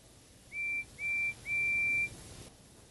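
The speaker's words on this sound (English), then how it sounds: "the guard's whistle blew and the two engines set off" A guard's whistle in Thomas & Friends: Wonders of Sodor blows three shrill blasts, two short then one longer, loud and clear over a quiet background.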